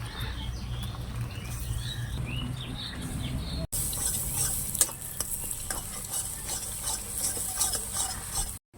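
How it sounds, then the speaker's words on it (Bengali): Egg dropped into a pan of frying onions while cooking chow mein at home, with steady sizzling and stirring scrapes that jump louder partway through and carry on alone. "এবার ডিম ভেঙে দিয়ে দেবো।"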